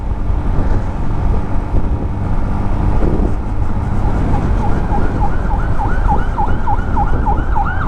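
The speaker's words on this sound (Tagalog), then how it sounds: "May ambulansya na naman doon." On a dark mountain road during a night motorcycle ride, an ambulance siren wails in rising and falling sweeps over steady engine and wind rumble, growing clearer toward the end.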